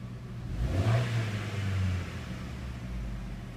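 A 2015 Chevy Spark 2LT with 28,000 miles on it hums along on a test drive, its small engine rising in a brief rev near the start before settling into a steady low drone with road rumble.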